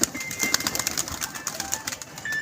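Pigeons at a pigeon club coo and flutter amid a busy outdoor background, with soft bird calls and occasional chirps throughout, moderately near and without speech.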